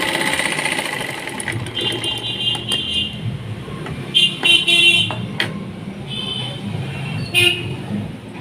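A sewing machine stitches a lined blouse in short bursts, a close whirring motor hum with rapid needle clatter, rising and falling as it starts and stops.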